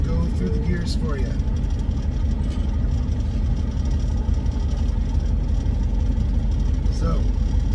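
A semi truck's diesel engine with a 13-speed manual transmission rumbles steadily inside the cab as the clutch eases out in second gear, a constant low drone under someone talking.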